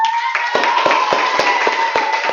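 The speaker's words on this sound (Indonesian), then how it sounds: "Tepuk tangan untuk kelompok." A small group in a teacher-training classroom in Pontianak claps for a student group after a presentation, giving a dense patter of hand claps with sharper individual smacks over a steady hum.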